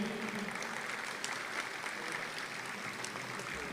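Applause from the audience at a mushaira, an Urdu poetry gathering in Dubai, with steady continuous clapping from many hands, moderately loud and unbroken.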